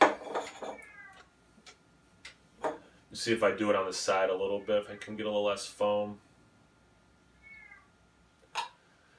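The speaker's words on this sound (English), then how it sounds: "Hear my cat meowing in the background." A cat meows faintly in the background a couple of times while a person talks nearby, with short clicks and tapping sounds between the words.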